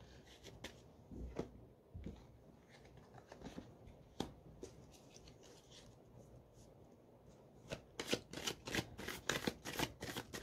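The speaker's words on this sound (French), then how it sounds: "J'arrive plus à brasser les cartes." Tarot cards being shuffled by hand, a quiet rustle of soft riffles and slaps that grows into a denser, faster burst of flicks near the end, heard alone without talk.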